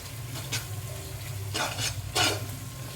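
Vegetables for a mixed veg kurma go into a pan of hot tempering, a low steady sizzle broken by a few bursts of stirring and scraping, close up with no talk.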